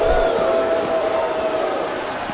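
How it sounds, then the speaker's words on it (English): Video-game wrestling arena crowd in WWE SmackDown vs Raw 2007, a steady roar of cheering and chanting filling the space at constant loudness, with no voices standing out above it. "I love hearing the crowd come alive"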